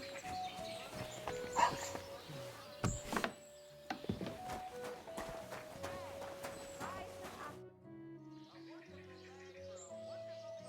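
A dog barks a few times in the video game Kingdom Come Deliverance 2, set against outdoor ambience with birdsong and clattering, and someone talks over it before quieter music-like tones take over.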